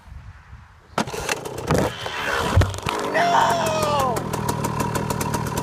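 A 2006 KTM 125 SX two-stroke dirt bike fitted with a Pro Circuit R304 shorty silencer revs up and rides off, a rising, buzzing engine tone held close, with a brief shout near the start.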